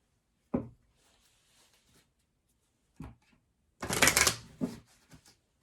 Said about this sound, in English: I felt like that was a very good shuffle